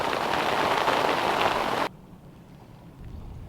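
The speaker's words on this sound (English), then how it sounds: "and it rains like crazy" Heavy rain drums on a sailboat's deck and a canvas cover in the cockpit, a loud dense roar that cuts off abruptly partway through, leaving a quiet background with faint patter.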